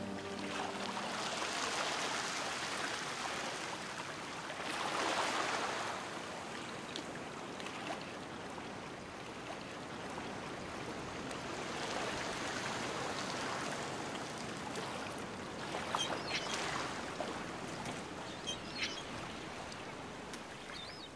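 A river flowing through a city, a steady broad rush of water heard for a long stretch, with gentle swells in intensity and faint bird calls in the background.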